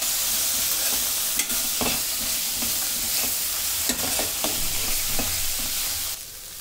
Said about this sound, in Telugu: ఇప్పుడు ఇందులోకి ఉడకబెట్టుకున్న బఠానీ వేసుకోండి. మంచిగా మిక్స్ చేసుకోండి.